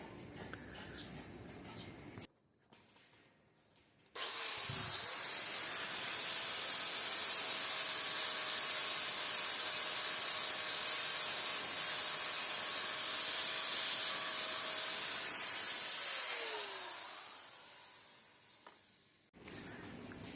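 A grade 120 flap disc grinds 0.8 mm sheet metal, a steady loud hissing roar lasting about twelve seconds before it spins down, with quieter handling noise before and after.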